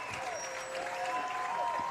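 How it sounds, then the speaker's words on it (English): Viking fans on their feet cheering and applauding at a Class 4A high school baseball semi-state championship, a steady crowd roar with a commentator talking over it. "The Viking fans are on their feet trying to cheer Trevor Fenters and company on"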